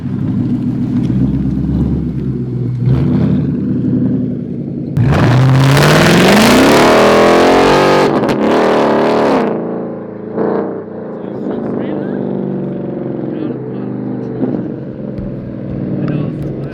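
A straight-piped 2019 Mustang GT pulls away hard. Its deep, loud exhaust climbs steeply in pitch for about three seconds, then settles back into a rumbling idle, with talk before and after.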